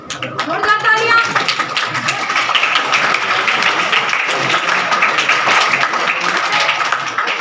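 A school crowd at a Kabir Jayanti drawing and yoga quiz event at MSM Public School, Baniyani, gives loud, dense applause that holds steady for about seven seconds. Murmuring voices sit underneath the clapping.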